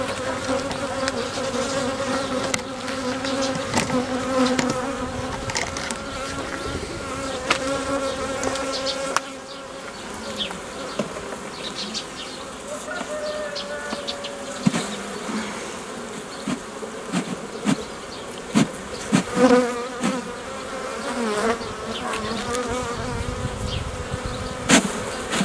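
Honeybees buzz inside an opened hive during hive work, a dense, steady hum with sharper passing drones of individual bees close by and occasional knocks and clicks of handling.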